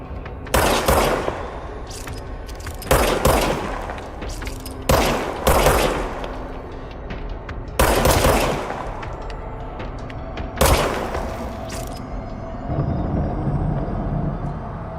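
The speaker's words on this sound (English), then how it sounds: "Now I have a gun. Right trigger to fire weapon." Service weapon fired in a video game, with bursts of loud sharp shots every two to three seconds, each followed by a rumbling decay.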